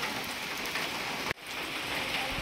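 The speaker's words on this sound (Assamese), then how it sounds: "পুৰা বৰষুণ দি আছে" Heavy rain pouring outdoors near Hatisila temple at Panikhaiti, Guwahati, a loud dense steady hiss broken by one brief dropout.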